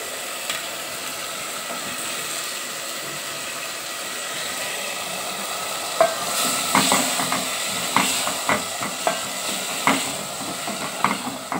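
Chopped tomato, potato and coriander leaves going into cooked spice paste for a cauliflower and catla fish curry, a soft steady hiss that turns into a run of clattering spatula stirs and knocks in the second half, close, with no speech.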